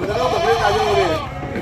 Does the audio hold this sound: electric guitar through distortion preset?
no